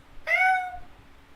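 A single house cat gives one clear, rising meow up close, short and bright against a quiet room.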